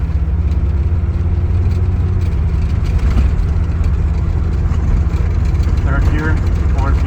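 Volvo 850 T-5R with a junkyard-rescue condition pulling through third and fourth gear, a steady loud low engine drone with a rising note near the end, heard from inside the car.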